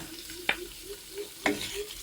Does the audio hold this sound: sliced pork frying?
yes